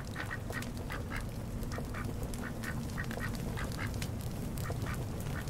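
Ducks burst out of a bush in the video game Little Inferno, quacking in a rapid, continuous chorus of repeated nasal calls over a steady background.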